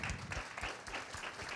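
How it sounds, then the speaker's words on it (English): An audience applauds a speaker at a business talk from Flashfood Inc, a steady wash of many hands clapping at a modest level for a short stretch, with no voices over it. "round of applause for Josh"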